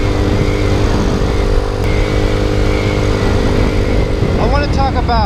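A Boom Vader Grom clone small motorcycle engine hums steadily while riding, close and constant, then revs up near the end, with someone talking over it.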